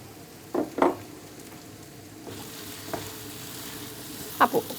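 Meat and whole garlic cloves frying in a pan, a soft continuous sizzle broken by a few scraping stirs near the microphone, with no talking.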